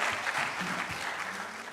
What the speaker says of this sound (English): Clap for the school